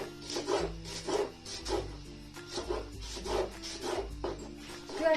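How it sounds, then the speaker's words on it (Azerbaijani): Green garlic being finely chopped by hand on a board, a quick run of soft, evenly spaced knife strokes, close and quiet, with no one speaking. "Nazik doğrayacağım."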